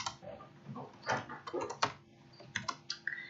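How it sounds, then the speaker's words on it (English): Keystrokes on a computer keyboard tapping in an uneven run of clicks, quiet and close, with no voices over them. "then you can start typing"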